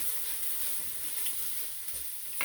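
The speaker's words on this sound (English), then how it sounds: "So we are just sauteing up our mushrooms, and we just have to be patient." Mushrooms sauté in a pan for a creamy dairy-free soup with fire-roasted onions, giving a quiet, steady sizzle and hiss with light stirring.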